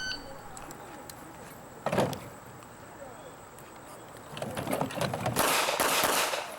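Pistol shots ring out during an IDPA shooting stage, a single loud crack followed later by a dense cluster of rapid shots, heard from a moderate distance over a steady outdoor background hiss.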